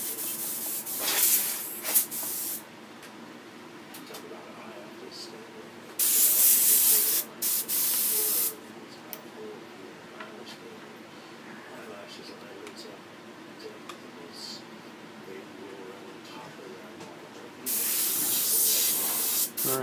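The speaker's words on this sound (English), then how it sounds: "And then just spraying it into a little trash can that I have off to the side here." Short hissing sprays of water burst out at intervals over a quiet background, each lasting a second or two, directed into a small trash can.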